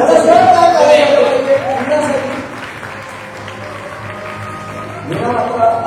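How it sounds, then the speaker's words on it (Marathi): Loud applause from an audience at a Marathi TV serial press conference, strong clapping at the start that fades and then swells again, with people talking over it. "जोरदार टाळ्या"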